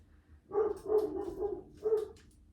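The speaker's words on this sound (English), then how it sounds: "Don't know what he's barking at today, but he's barking at something." A pup barks repeatedly indoors, a run of about four loud, close barks followed by a short pause and one or two more, with no talk over them.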